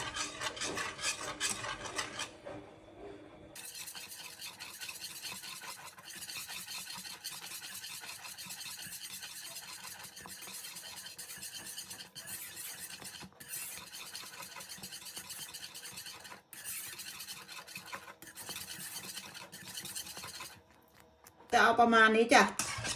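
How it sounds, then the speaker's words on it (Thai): A utensil scrapes and stirs flour batter in a pot, producing a continuous rubbing, rasping sound that stays close and steady for a long stretch, broken briefly near the start and ending in a louder burst. "กวนไปเรื่อยๆจ้ะ"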